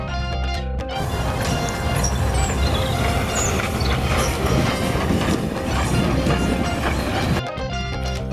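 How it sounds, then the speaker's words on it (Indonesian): A coal-fired steam train runs past loudly and steadily, a dense clattering rumble with metallic wheel noise that fills nearly the whole stretch before cutting off briefly at each end. "Kereta api uap berbahan bakar batu bara"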